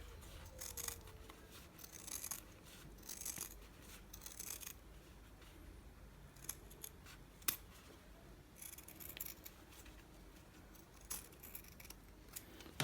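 Scissors cut fabric for a shirt collar. The snips and rustles are quiet and close, coming in short irregular bursts with small pauses between them, and there is no talking.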